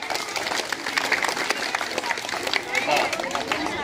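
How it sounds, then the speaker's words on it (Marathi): Students at a Zilla Parishad school quiz clap together for the 6th grade team, producing a steady, dense round of applause from a nearby group, with some voices mixed in underneath. "सर्वांनी 6वीसाठी टाळ्या वाजवा"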